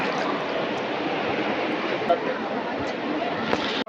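Two Himalayan rivers, the Alaknanda and the Bhagirathi, meet at their confluence, giving a steady broad rushing roar of flowing water that carries on without a break.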